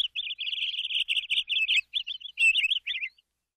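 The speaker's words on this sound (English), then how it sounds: "They're birds." A bird chirps rapidly and continuously, high-pitched tweets in quick bursts with short pauses, clear and close, no other sounds.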